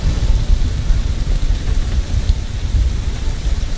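Thunderstorm and rain in a flight simulator, a steady loud roar of heavy rain with a deep rumbling low end throughout and no talk.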